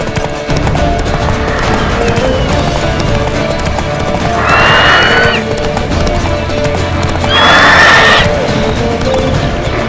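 Galloping hooves from a horse in The Witcher 3: Wild Hunt video game pound steadily and loudly, broken by two sharp, rising neighs near the middle and end over a dense game soundscape.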